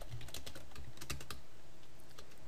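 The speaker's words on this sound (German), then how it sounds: "machen einfach im beliebigen Texteditor und schreiben da jetzt unsere Assembler-Folge hin" Keys clatter on a computer keyboard while a short assembler program is typed into a text editor for a homemade 4-bit CPU. The clicks are quick and close, bunched in the first half, then thin out over steady background hiss.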